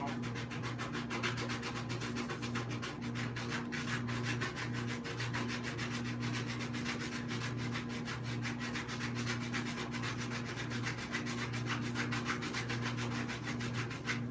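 Edges of glued work are wiped with a cloth and rubbing alcohol, a fast, steady rubbing scrub repeated in an even rhythm throughout, close and continuous with a low hum behind.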